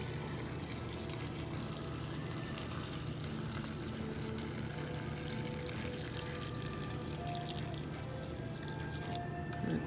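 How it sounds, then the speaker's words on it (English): Filtered water poured into a blender jar for a vegetable smoothie, a steady continuous splashing pour running throughout, close and alone with no talk. "I have some filtered water here, and you put in"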